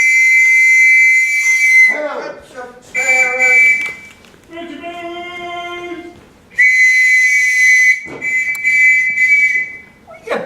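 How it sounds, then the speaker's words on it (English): A shrill whistle is blown in two long, piercing blasts, one at the start and another later on, with a voice talking loudly between them in a stage drama scene. "What are you blowing your whistle for,"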